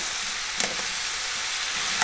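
Pork belly frying in a pot for a pork-and-daikon dish, a steady close hiss of sizzling fat with a couple of faint stirring scrapes, no talking.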